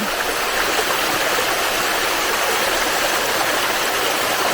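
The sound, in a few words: flowing water stream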